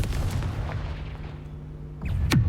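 Spell explosions go off in the video game Hogwarts Legacy, a rumbling low boom and crackling blasts during combat, ending in a sharp bright burst, with no speech over them.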